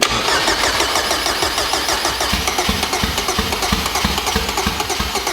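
A turbocharged Honda Civic with a K20 engine cranks over loud and close on its first start, the starter chugging in a rapid, even rhythm that catches into a rough, pulsing run.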